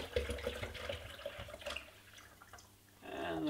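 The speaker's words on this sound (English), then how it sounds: "So I'm going to pour a full kettle's worth." Hot water poured from a kettle into a container while brewing ginger beer: a steady, close liquid splash and trickle that swells louder near the end.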